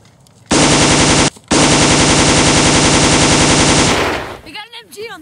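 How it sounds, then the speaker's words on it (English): Machine gun fire from a homemade WW2 movie rattles out in a loud, sustained burst with a brief break, then fades into faint voices and rustling. "We got an MG on the ridge!"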